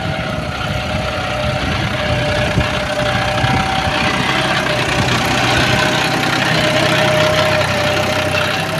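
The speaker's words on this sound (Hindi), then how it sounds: "और वो चल रहा है अपना ट्रैक्टर 52-10 गियर प्रो है दोस्तों, जॉन डियर का काफ़ी शानदार परफॉर्मेंस है।" A John Deere 5210 GearPro tractor pulling an Umiya plough, its diesel engine droning continuously with a knocking rumble and steady hum, close and fairly loud, with no talk.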